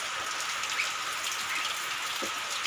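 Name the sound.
rain falling at night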